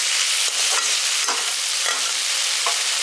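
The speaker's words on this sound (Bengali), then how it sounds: "আলুগুলো দিয়ে মশলাটার সঙ্গে ভালো করে এটাকে কষিয়ে নিয়েছি দেখুন" Potatoes and spices for a village-style spinach potato curry being stirred in a hot pan, a loud, steady sizzle broken by repeated scraping strokes of the spoon roughly every half second, with no voices.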